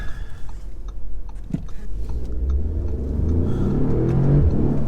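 A 2019 Audi S3 saloon with quattro drive accelerates hard on a B road with traction control off, its engine note swelling into a loud, rising rumble that builds over several seconds, heard from inside the car.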